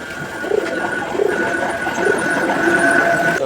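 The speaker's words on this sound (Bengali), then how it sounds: "একদম এ গ্রেডের একজোড়া কবুতর" A pair of A-grade fancy pigeons coo in rhythmic low rolling phrases, close and clear, repeating about every second over a faint steady tonal hum.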